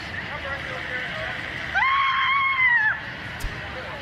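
An actor lets out a single sustained, strained scream on the Black Adam film set, lasting about a second amid steady background crowd murmur.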